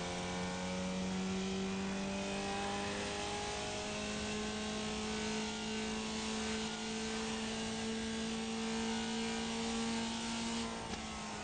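A race car engine in the iRacing sim drones continuously and loudly, its pitch holding fairly steady and slowly climbing over several seconds with no speech.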